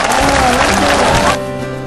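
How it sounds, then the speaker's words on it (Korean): A crowd claps and cheers at former South Korean president Roh Moo-hyun's homecoming to his rural home village. The applause is loud and dense, with voices mixed in, then cuts off abruptly near the end. "박수!"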